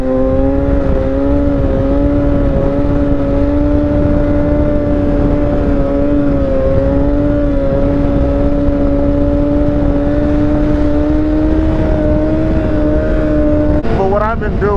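Motorcycle engine revving during a ride with wheelies, holding a loud, fairly steady drone that shifts slightly in pitch and cuts away near the end.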